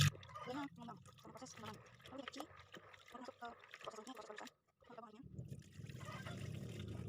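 Soaked soybeans being washed in water for tempeh, with splashing, trickling and sloshing in irregular bursts, a brief pause, then steadier pouring or running water; voices speak over parts of it.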